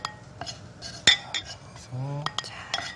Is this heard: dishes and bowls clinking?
yes